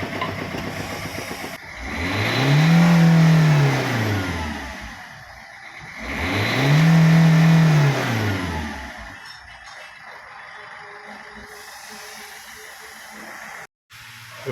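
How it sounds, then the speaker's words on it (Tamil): A Ford Figo car engine with a freshly fitted injector revs up twice in long, rising-and-falling swells, then settles to a steady idle with a faint hiss. No one speaks over it. "இப்போ பார்த்தீங்கன்னா அந்த இண்டிகேஷன் லைட் எரியல, வண்டி நல்லா ரேஸ் ஆகுது"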